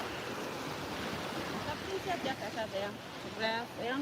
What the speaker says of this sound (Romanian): cred că vine apa peste mine, mă ia apa